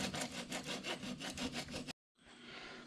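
Steady back-and-forth scrubbing of flaky rust off a 2012 Ford F150 brake caliper bracket, loud and rhythmic for about two seconds, then a brief pause before softer scraping resumes.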